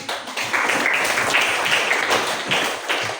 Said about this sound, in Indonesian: Tepuk tangan untuk Kayla